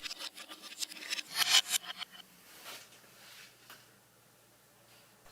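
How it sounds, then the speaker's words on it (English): Screws being driven into a 7x12 mini lathe, heard reversed: scraping, rasping metal-tool strokes in quick irregular bursts, loudest early on, then thinning to faint scrapes. "here's footage of screwing them back in, played in reverse"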